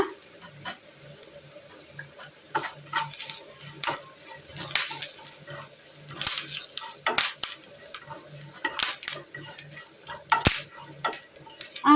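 Coriander powder, turmeric powder and curry leaves sizzle and fry in a pan for a Kerala curry, with repeated scraping stirs and occasional clinks over a steady crackle, no voices.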